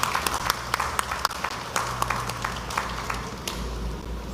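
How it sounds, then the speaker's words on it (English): Crowd applause at a political party manifesto launch, distinct claps over a rumbling low background hum that persists throughout. "Let's give a round of applause for youth, sport, community development."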